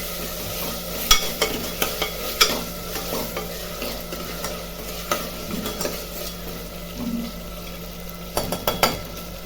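Chopped tomatoes and ginger garlic paste are stirred in a hot pan, with a continuous sizzle and repeated spatula scrapes and knocks on the metal, close and steady.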